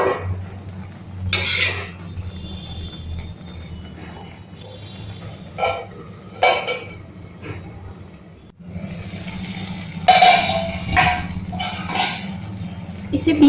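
A spoon stirring lauki (bottle gourd) halwa in a pan over low heat, giving a few scattered bursts of scraping and clinking against the metal over a steady stovetop hum.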